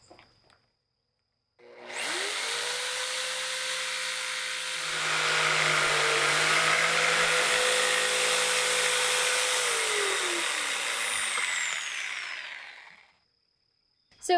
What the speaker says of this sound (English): I should be able to start my cut